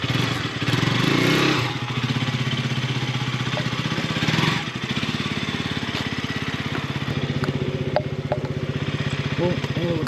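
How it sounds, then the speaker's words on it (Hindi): A motorcycle engine drones steadily while the bike is ridden along a road toward Dehradun, loud and close, with wind rush and a slight rise in the first seconds. "पापा चला रहे हैं बाइक"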